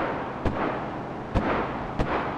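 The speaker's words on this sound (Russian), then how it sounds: "Там кто там стреляет? Наш?" Scattered gunfire in the WW2 video game Enlisted: three sharp, separate shots over a steady roar of background battle noise, with no voices.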